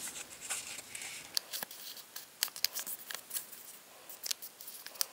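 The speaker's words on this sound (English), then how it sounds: "fold and pinch." Paper doll clothes printed on paper are folded in half and into quarters and pinched along the edges, giving quiet, close crinkles and sharp papery snaps at irregular intervals with no talking.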